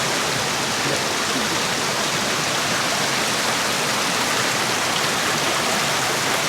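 A small river rushes past, a dense, even hiss of flowing water that stays constant and close for the whole stretch.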